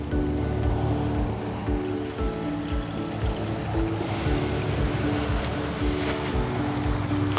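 Water from a waterfall feature splashes steadily into a backyard swimming pool at a Gulf-access home in Cape Coral, a continuous broadband wash that stays fairly loud and close throughout with no talking.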